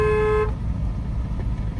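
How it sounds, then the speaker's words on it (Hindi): A car horn blares in one steady, loud tone for about half a second, then cuts off, leaving the low rumble of the car's engine and road noise. "लॉन्ग हॉर्न प्रेस करो"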